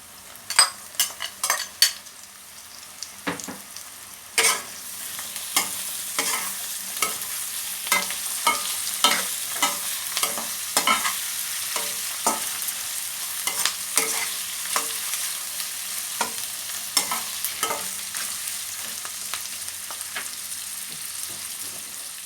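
Beef goes into a hot pan with garlic and onion for a Bicolano sizzling beef tofu, clattering and scraping as it is stirred, then settling into a steady close sizzle broken by repeated utensil strokes.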